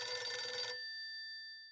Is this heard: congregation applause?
no